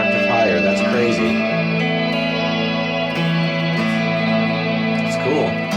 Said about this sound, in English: Wow, the reverb is like an octave higher.